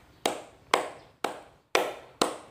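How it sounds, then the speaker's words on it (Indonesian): Five sharp, evenly spaced hand claps, about half a second apart, from a group clapping together during a seated hand exercise session; crisp and fairly close, with no talking over them. "Yuk kita tepuk tangan."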